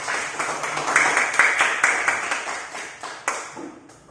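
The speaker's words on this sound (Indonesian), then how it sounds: "tepuk tangan itu" Classroom pupils clapping their hands in a burst of applause, uneven overlapping claps building then thinning out to a few scattered final claps, fairly close and lively.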